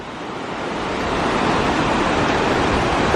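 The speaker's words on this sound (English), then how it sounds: "River's moving quite fast." A fast-flowing river rushes steadily at a campground on a lakeside hiking trail, a broad, continuous roar that builds slightly and then holds loud and close, with no voices over it.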